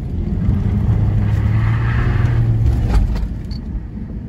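An Audi A4 2.0T Quattro wagon on snow tires with all-wheel drive spins a doughnut at speed, its engine droning loud and steady from the cabin before easing off near the end.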